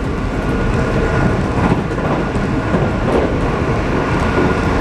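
A V/Line train rumbles steadily along the rails, a continuous loud roar with faint rhythmic clatter, close by and with no voices.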